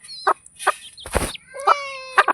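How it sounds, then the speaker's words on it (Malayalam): A hen clucks close by in several short, spaced calls, with thin high chirps between them. "തള്ളക്കോയി തിന്നുന്നുണ്ട്"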